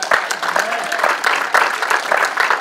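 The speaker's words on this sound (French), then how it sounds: "Est-ce que vous pouvez m'applaudir" A church audience claps in a dense, continuous burst of applause, loud and close, with a brief voice faintly underneath.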